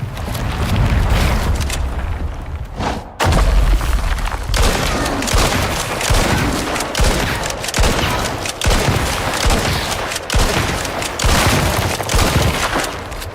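Sustained, dense gunfire in the video game Icarus while shooting the final Quarrite boss, loud and nearly continuous with a rumbling low end and only a brief lull early on, no talk.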